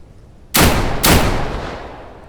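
Double-barrel shotgun fired twice in the game Deadside, two loud sharp blasts about half a second apart, each with a booming tail that fades out.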